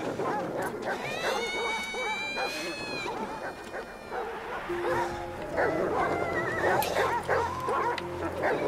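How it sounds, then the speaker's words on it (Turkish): In the First World War video game Valiant Hearts: The Great War, a dog barks and whines amid other game sounds and voices, with short barks scattered through the moderately loud mix. "Köpek sesi geliyor."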